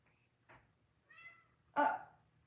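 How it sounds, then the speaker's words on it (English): A cat meows several times: a faint short call, then a longer drawn-out meow, then a louder final one, close by in an otherwise quiet room with a low background hum. "Cat noises?"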